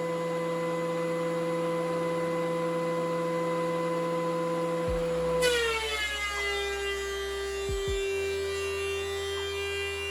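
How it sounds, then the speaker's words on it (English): A thickness planer shaving hardwood stock down to half an inch over multiple passes, a steady loud motor whine that shifts pitch midway as the cutter engages the board, with brief low thumps as the stock feeds through. "shaving a little bit of material from either side of the stock as I go through multiple passes through the planer"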